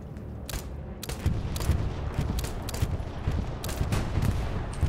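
Gunfire in the World War II shooter Hell Let Loose: a dense stream of sharp shots and bursts, close and far, over a steady rumbling battlefield bed, with no talking.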